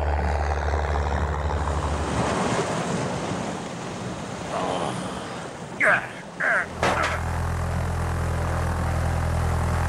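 A propeller airplane engine straining past maximum revs in a French radio drama, a loud continuous droning roar under frantic voices, with a few sharp bangs near the end before the engine tone steadies.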